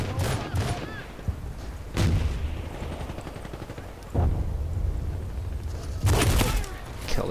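Rifle shots from an M14 in the Medal of Honor online multiplayer game, sounding as several sharp loud cracks spread across the scene over continuous in-game battle noise, with a talking voice.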